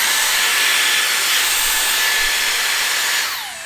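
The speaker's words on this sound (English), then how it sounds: "start using the AirStraight" Dyson Airstrait straightener blowing air through wet hair on the low fan wet setting, a steady loud whooshing hiss that holds evenly before easing off and dropping in level at the end.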